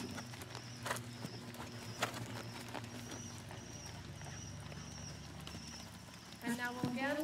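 Horses trot in a collected trot during a dressage lesson in an arena, with faint rhythmic hoofbeats under steady ambient noise and a brief voice near the end.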